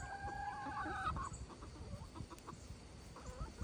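Chickens clucking softly while eating blueberries outdoors, faint scattered clucks and short calls close by with low background noise.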